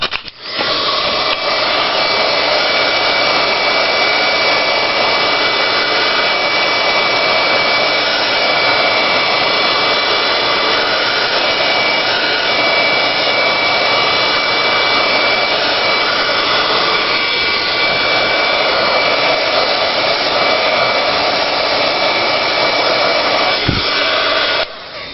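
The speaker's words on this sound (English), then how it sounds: "So I'm going to use my heat gun." Heat gun drying a spongy craft piece, a loud, steady, close blowing whoosh with a faint whine that runs continuously for the whole stretch and cuts off at the end.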